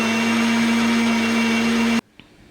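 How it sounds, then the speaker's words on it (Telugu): Kitchen mixer grinder blending peanuts, green chilies, garlic, salt and tamarind into chutney: a loud, steady motor whine running for two seconds, then abruptly cut off, followed by a faint knock. "పల్లీలు, పచ్చిమిర్చి, వెల్లుల్లి, సాల్టు, చింతపండు అన్నీ వేసుకొని మిక్సీ జార్ పట్టేస్తే పల్లీ చట్నీ రెడీ అయిపోతుంది."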